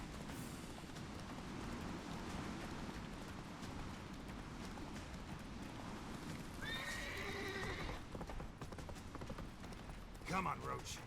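In The Witcher 3, the horse Roach gallops with continuous rapid hoofbeats under a steady noisy backdrop, breaking into a clear whinny partway through and a shorter neigh near the end.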